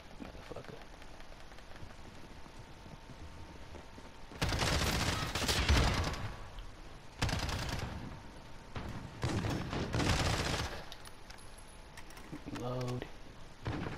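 Bursts of rapid automatic gunfire from Call of Duty, loud and close, arriving in several separate volleys with quieter gaps between them and a voice heard briefly near the end.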